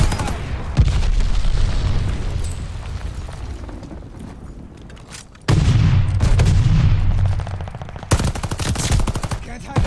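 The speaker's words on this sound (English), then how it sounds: "Friendly sending a glide bomb." Heavy gunfire and explosive booms from a glide bomb strike in the video game Call of Duty: Vanguard, a loud continuous barrage that eases off, then surges again with fresh blasts and sharp cracks near the end.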